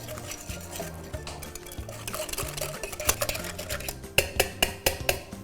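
Yogurt and gram flour are whisked together in a bowl for Punjabi kadhi. The stirring is soft and scraping, with sharper spoon clinks growing louder toward the end over faint background music.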